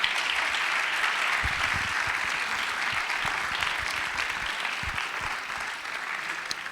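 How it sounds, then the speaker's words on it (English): Conference audience applauds a speaker after a tech talk, steady full-room clapping throughout with no talk over it. "let's give a big round of applause to Huyen once again"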